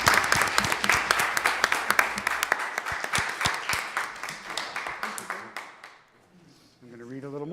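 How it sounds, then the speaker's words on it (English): Applause from a crowd at a 2017 Disability Service Award presentation, steady dense clapping that fades after about six seconds as a voice begins speaking. "Let's have a round of applause."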